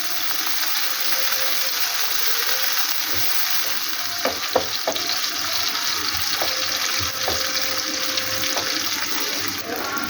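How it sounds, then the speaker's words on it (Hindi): Onions fry in ghee with a steady, dense sizzle that fills the whole stretch, joined midway by a few sharp clinks and scrapes of stirring close by. "आज पहले प्याज को फ्राई करेंगे"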